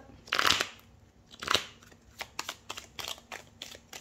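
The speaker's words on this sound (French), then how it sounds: "je vais tirer les cartes 2 par 2 jusqu'à tomber sur les 4 cartes que j'ai affectées aux 4 domaines" Tarot cards being shuffled and drawn for a reading: two loud riffling bursts, followed by a series of quick, light card snaps and slides, heard close with no talk.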